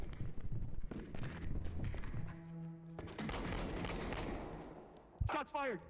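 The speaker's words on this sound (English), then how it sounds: "Shots fired! Shots fired!" Video game gunfire bursts in a rapid spatter of shots with booming tails, a steady tone running underneath, then quiet chirping near the end.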